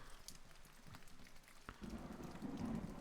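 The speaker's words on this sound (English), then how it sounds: "A lot of lightning going on." Thunderstorm in the video game Mount and Blade: Warband, a faint rumble and crack of lightning partway through, then a steady wash of rain building alongside.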